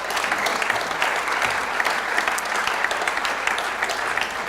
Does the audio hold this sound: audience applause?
yes